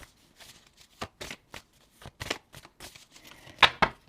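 Tarot cards are shuffled and drawn in a quick, irregular series of crisp riffling and flicking bursts, close up, with brief pauses between them and no talking.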